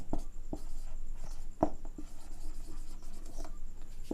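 Handwriting on paper, heard close and fairly faint: a run of light scratching strokes with a few sharper taps of the pen, unevenly spaced over a quiet room hum, with no talk.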